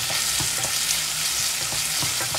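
Chinese chorizo frying in a pan with ground pork gives a steady, loud, close sizzle, with soft scrapes and knocks from stirring every fraction of a second.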